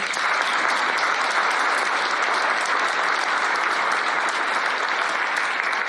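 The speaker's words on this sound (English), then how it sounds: "give another round of applause for the whole panel" Audience at a community discussion on data centers applauds the panel, a loud, even roar of many clapping hands sustained throughout with no talking.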